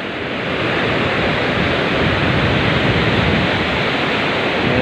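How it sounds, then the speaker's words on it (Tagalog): Loud rushing water at a waterfall, a close, dense and constant roar that swells slightly after the first second and holds steady, with no voices over it. "Lakas ng lagaslas ng tubig dito"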